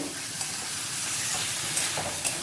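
Mutton curry stirs and sizzles in a pan, a steady close frying hiss with faint scraping of the spoon and no talk.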